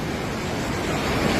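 A flooded river rushing past near a suspension bridge, a loud, dense, unbroken roar of churning water.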